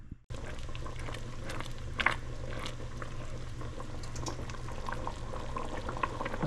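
Tuscan chicken pasta sauce simmers in a pan, a steady close bubbling and gentle popping that runs throughout after a brief quiet start, with no voices.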